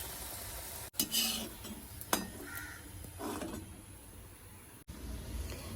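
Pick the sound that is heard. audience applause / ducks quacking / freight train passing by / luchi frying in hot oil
luchi frying in hot oil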